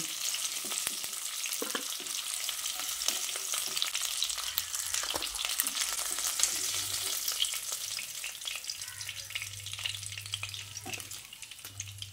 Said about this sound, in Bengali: তারপর বাকি মাছগুলো ওই একইভাবে তেলে ভেজে নিচ্ছি।